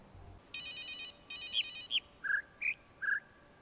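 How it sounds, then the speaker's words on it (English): Electronic phone ringing tones from the video game The Witness: two sustained trilling rings followed by several short chirping beeps, heard alone at moderate level over a faint background hiss. "I had to put a stupid phone sound in it."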